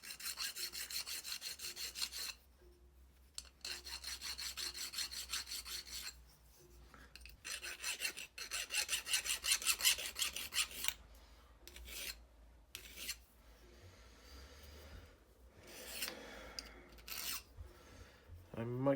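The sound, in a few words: metal file rasping on second-hand metal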